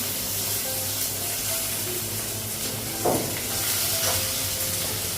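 Onion and green chilli frying in a pan at home as tomato goes in next, with a continuous close sizzle and hiss, one louder spattering burst and a few light clinks, no voices.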